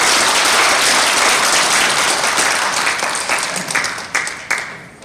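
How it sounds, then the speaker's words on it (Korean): A lecture audience welcomes the speaker of a talk on Korea's 1945–48 liberation period with full, steady applause that tapers into a few scattered last claps. "박수로 환영하십니다"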